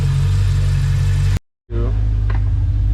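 A BMW E92 M3 engine revs by itself, a loud, close mechanical drone that cuts off abruptly for a moment and then resumes, with a short rising rev near the end.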